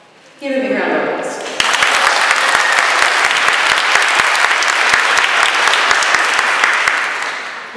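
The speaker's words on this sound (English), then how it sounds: "Give me a round of applause." A crowd at a Filipino Christmas concert in Manhattan applauds before the next song. A brief lead-in is followed by loud, sustained clapping with sharp individual claps standing out throughout.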